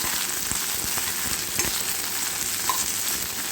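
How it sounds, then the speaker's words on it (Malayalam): Sliced green chillies and ladies finger sautéing in a pan give a steady, close sizzle with a few soft stir scrapes, no voices. "അതിനകത്ത് ഈ മുളക് ഒന്ന് വട്ടം മുറിച്ച് ഇടുക. നീളത്തിലുള്ള മുളകാട്ടം അത് വട്ടം മുറിക്കുക. അതൊന്ന് വഴറ്റിയെടുക്കുക."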